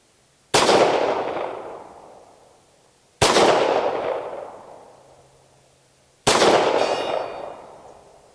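Three loud, sharp pistol shots from a SAR USA P8L fired outdoors at a 100-yard target, each a sudden crack trailing into a long rolling echo, spaced about three seconds apart with no talk.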